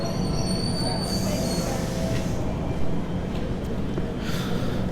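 Trains at Strathfield railway station in Sydney, with loud metallic wheel squeal ringing over a steady low rumble of rolling railcars, close by and continuous throughout.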